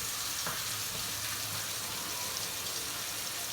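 New York strip steaks sizzle steadily in a hot pan, a continuous broadband hiss with crackle that holds at an even level throughout, with no talking.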